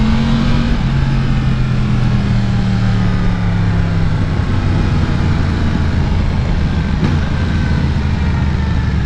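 A 2018 Yamaha MT-10 motorcycle engine drones steadily through its exhaust pipe while riding, loud and continuous, with pitch slowly dropping as the revs ease and rising again near the end.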